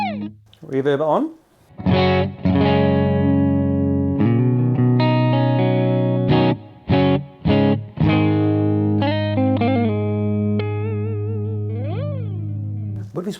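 Electric guitar played through a DSM & Humboldt Dumblifier overdrive pedal on the clean channel with reverb switched on: loud, sustained ringing chords and single notes, broken by a few short pauses, with a reverb tail trailing off at the end.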